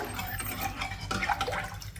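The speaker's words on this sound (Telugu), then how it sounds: "కొద్దిగా నీళ్లు వేసేసుకుందాము" Water is poured into a pot of simmering lentil soup (pappucharu) while cooking, a soft, brief splashing trickle over faint kitchen background noise.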